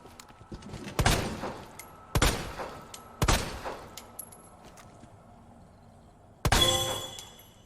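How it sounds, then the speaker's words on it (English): Gunshots in Resident Evil 2 aimed at a small Mr. Raccoon figure: three sharp shots about a second apart, then a pause and a final shot with a bright breaking clatter. "I get a trophy for shooting the first one"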